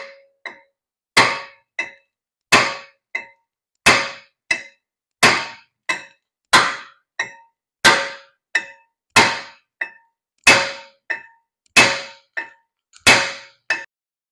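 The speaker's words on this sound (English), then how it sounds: "after a lot of beating on that rotor, I was able to extract it or take it out" Hammer blows on a rust-seized brake rotor during a Volkswagen GTI / Audi A3 wheel bearing job, about a dozen sharp metallic clangs struck at a steady rhythm, loud and close with no talk.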